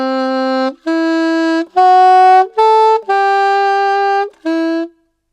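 Saxophone plays the opening of a theme tune, six clean sustained notes stepping upward then back down, loud and close with short gaps between them and no voices.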